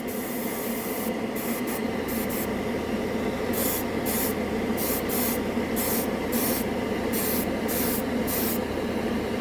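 An airbrush sprays yellow paint over red primer, a close, continuous hiss that pulses on and off in short bursts as the trigger is worked.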